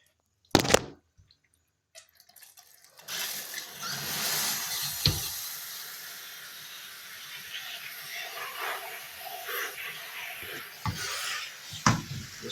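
A shower head sprays water over a furnace filter, a steady hissing rinse with uneven splashing and dripping that runs for about nine seconds after a few sharp knocks and handling sounds.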